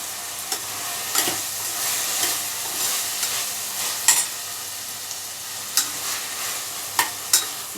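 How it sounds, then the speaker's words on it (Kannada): Fresh green peas stirred and frying in hot oil in a pan for pulao, a steady sizzle broken by repeated scraping stirs at an irregular rhythm, close and clear with no talking. "ಈ ಟೈಮಲ್ಲಿ ಬಟಾಣಿ ತೊಗೊಂಡಿದ್ನಲ್ಲ, ಈ ಬಟಾಣಿ ಹಾಕ್ತಾಯಿದ್ದೀನಿ."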